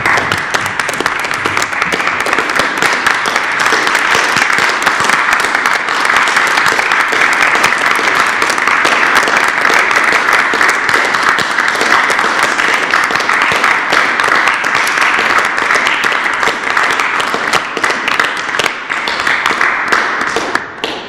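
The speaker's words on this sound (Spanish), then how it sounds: "como todos los días a las 6:30 hacemos el aplauso, el gesto simbólico con el que expresamos el agradecimiento de todos con el personal de salud" Sustained applause offered as a symbolic thanks to health workers, a dense steady wash of many hands clapping at once for about twenty seconds, loud and continuous without voices.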